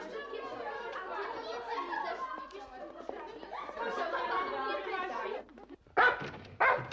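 A small dog barks in a domestic scene, with a couple of sharp yaps near the end after a stretch of lively chatter and children's voices in the room.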